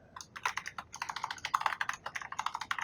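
Rapid, close typing on a computer keyboard, a quick uneven run of light key clicks that carries on steadily for a few seconds with no voices.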